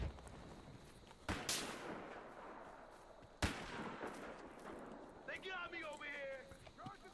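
Pistol gunfire in a Battlefield Hardline team deathmatch: two sharp, loud shots a couple of seconds apart over busy game ambience, followed by a player talking.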